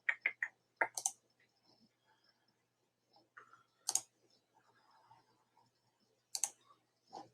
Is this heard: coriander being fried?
no